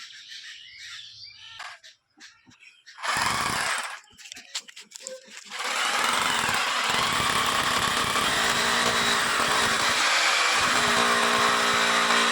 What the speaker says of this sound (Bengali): আমি এখন ডিল চালাচ্ছি এক সাইডে ফুটো কমপ্লিট আর এক সাইডে ফুটো করব